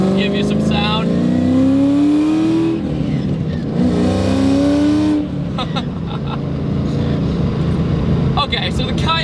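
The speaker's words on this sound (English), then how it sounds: "it's hard to justify just how loud and crazy this car sounds from the inside" A Ford Terminator Cobra with a 700-horsepower engine revs hard from inside the cabin, rising in pitch, dropping off, then climbing again in a second loud surge before settling into a rumbling idle with clicks.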